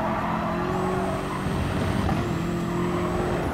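A BMW M6 race car engine roars steadily in GT Sport, a loud sustained drone with faint high whine, as if held at speed on track.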